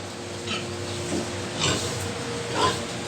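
A few short, low grunts from a sow nursing piglets come at intervals over a steady farm background hum, fairly close but not loud.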